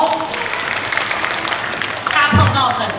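An audience claps hands at a 2016 children's storytelling concert with a chamber ensemble in a music hall, a dense, steady patter of clapping filling the room, with a voice rising over it near the end.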